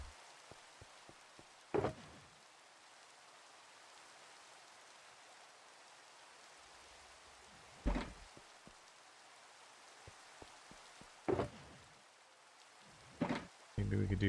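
Steady rain falls in the video game Minecraft, a faint, even hiss held under the whole stretch, with a few brief louder clicks and bursts breaking through.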